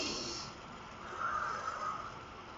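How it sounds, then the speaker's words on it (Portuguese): A slow, deep breath drawn in and let out, a soft airy rush that swells and fades alone over a faint background hiss, with no talking. "Respira bem fundo."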